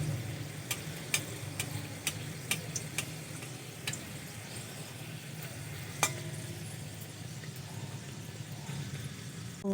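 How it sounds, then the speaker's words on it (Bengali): A potato paratha fries in oil in a pan, with a continuous soft sizzle and frequent sharp pops and ticks scattered throughout, close and without talk. "পাল্টিয়ে পরোটাটা ভেজে নেব। ওপর দিয়ে একটু তেল দিয়ে দেব।"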